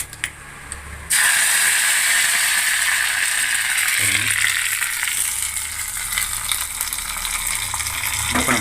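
Curry leaves hit hot oil for banana stem chutney, setting off a loud, steady crackling sizzle that jumps in abruptly after a brief quieter start and keeps spitting close and continuous to the end.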